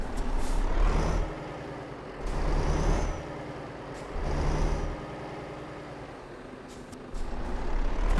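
Truck in Euro Truck Simulator 2 pulling away: repeated sharp air-brake hisses burst over a steady low diesel engine drone, about four releases across the stretch, fairly close and with no voices.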